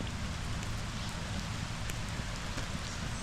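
Steady rain falls on a driveway and patio work site, a dense continuous patter with occasional louder drops, heard alone without talking.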